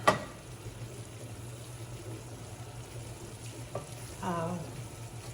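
Turkey and sausage meatballs fry in a skillet with a steady, moderate sizzle throughout, a brief clatter at the start and another near the end as they are moved in the pan.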